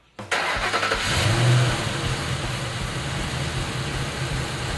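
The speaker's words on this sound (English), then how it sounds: "cranks the car and allows it to idle for several minutes to check for leaks" A 2006 Ford Mustang GT V8 with an aftermarket camshaft cranks and catches, then settles into a steady, rumbling idle that carries on alone at close range.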